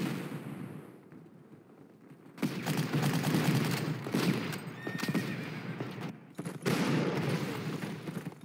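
Artillery firing in the WWII strategy game Panzer Corps, a loud layered burst of booming gunfire that comes in repeated waves with brief gaps between them.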